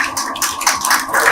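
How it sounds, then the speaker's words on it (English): Applause from a conference audience at the opening of a national fruit-cultivation event in India, a dense steady wash of many hands clapping close and loud for a brief moment, with no voices over it. "That deserves a round of applause."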